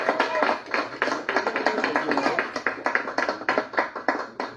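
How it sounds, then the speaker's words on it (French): Applause after a remark at a French-language comedy talk show, a small group clapping in uneven, fairly close bursts that carry on for several seconds with no voices over them. "Applaudissements"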